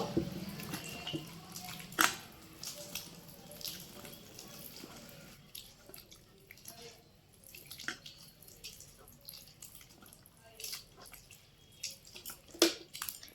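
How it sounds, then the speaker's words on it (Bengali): Wood apple (bael) pulp is mashed and mixed with water by hand for ice cream, giving soft, irregular wet squelches and splashes at low volume. "বেলের কাঁধটার মধ্যে জল দেবো, জল দিয়ে হাত দিয়ে চটকে মেখে নেব।"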